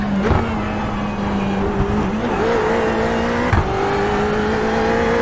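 A Ferrari GT3 race car drives the Long Beach street circuit in the iRacing simulator, its engine droning steadily near and loud, the pitch dipping with gear changes and then climbing again under hard acceleration.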